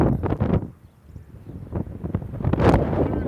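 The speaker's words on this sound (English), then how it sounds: "Now it's starting to get windy again." Gusty wind batters the microphone at a high-school baseball game, loud irregular rumbling bursts that ease off briefly then surge back stronger.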